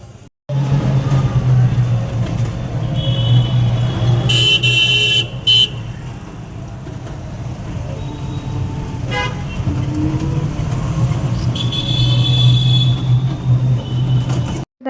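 Busy street traffic with a loud horn blast and steady engine drone, heard from a toto e-rickshaw setting off toward a market; horns sound near the start and again toward the end.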